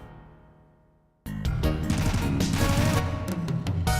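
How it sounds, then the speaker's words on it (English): Automatic gunfire from terrorists in the 1989 PC adventure game Codename: ICEMAN, a sudden dense burst of rapid crackling shots that cuts in after a fading tone and keeps rattling loudly to the end. "Automatic gunfire from the terrorists has ruined your day."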